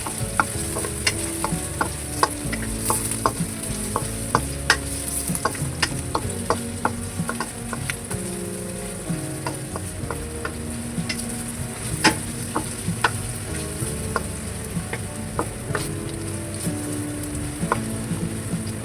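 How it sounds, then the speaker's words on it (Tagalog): Ginger sautéing in a pan until brown, with a steady sizzle and frequent scraping stirs of a utensil against the pan, continuous and close throughout. "Kaya natin maging brown muna yung ating luya."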